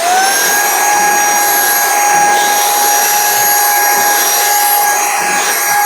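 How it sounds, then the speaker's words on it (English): A small handheld vacuum cleaner running continuously, a loud steady high-pitched whine and airy rush, close by, with no talking. "The vacuum cleaner part comes out from here and you can clean this way."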